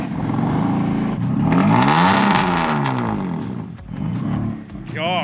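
A BMW F80 M3, its engine just flashed back to stock, runs loud and close with a rough, throaty rumble that swells and falls, while voices talk over it.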